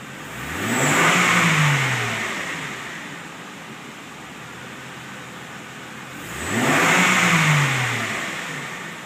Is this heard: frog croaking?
no